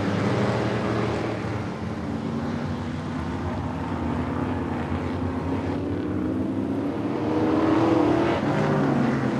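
Asphalt modified race cars, mostly Chevy Coupes, run on a super short track, a steady broad engine roar that swells and fades as cars pass, continuous with no voices.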